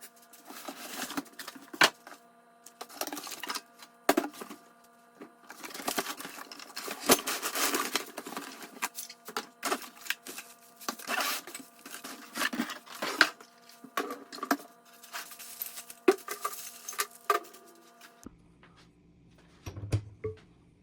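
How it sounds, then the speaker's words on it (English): Box of a Torin 3-ton floor jack being opened, heard as irregular cardboard scraping, tapping and rustling bursts, fairly quiet, ending in a lower handling thump. "So we're going to get the box open"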